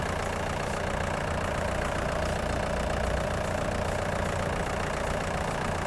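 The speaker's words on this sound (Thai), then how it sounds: "เครื่องยนต์เป็นของยันมาดีเซลนะครับ" Yanmar four-cylinder diesel engine idles on a KENCHO MD50-2 pile driver, a steady low rumble with an even mechanical chatter, close and constant with no voices.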